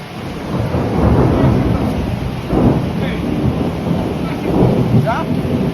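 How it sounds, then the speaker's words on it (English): A severe thunderstorm over Midtown sends up a loud, steady roar of heavy rain or hail pounding surfaces, with deep rolling thunder swelling through it. "We're not supposed to get a severe thunderstorm right now."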